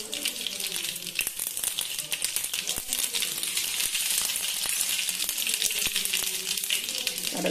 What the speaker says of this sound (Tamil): இப்போ வந்து கடுகு போடுவோம்